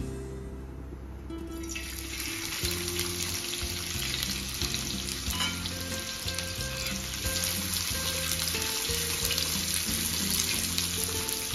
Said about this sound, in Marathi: आता आपल्याला कांदा तळून घ्यायचा.